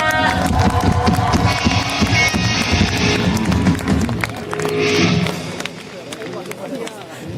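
A big crowd claps and cheers just before a rock band takes the stage at a live concert at Goyang Aram Nuri. The roar is loud and dense, swells, then eases a little toward the end.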